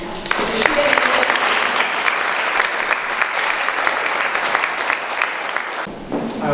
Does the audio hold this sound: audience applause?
yes